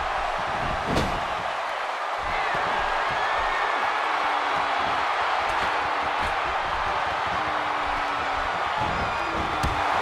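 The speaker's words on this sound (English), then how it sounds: "Another electric crowd on hand here for Smackdown" Dense crowd noise from a televised Smackdown wrestling event in Austin, Texas, a steady wash of cheering and chatter filling the arena with a few sharp impacts, holding at an even level throughout.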